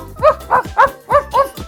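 A cartoon dog sound effect gives five short, yappy barks in an uneven rhythm, each bright and springy, loud and close with no other sound around them.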